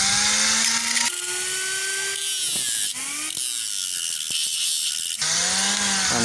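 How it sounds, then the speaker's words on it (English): A grinder cuts away the sharp pointed end of a metal coil, whining loudly in rising and falling bursts as it bites in and eases off, with no talk. "you are going to remove this sharp pointing part using this grinder."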